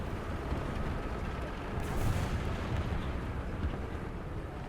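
Continuous heavy rumble of artillery fire and explosions on a War Thunder tank battlefield, a dense low roar that swells briefly near the middle, with no talking.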